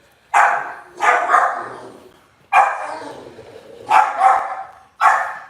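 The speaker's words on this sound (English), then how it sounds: "Puppy's looking good, man." Puppies barking outdoors near the food, several loud close yaps in irregular bursts over a few seconds, some doubled, with no talk.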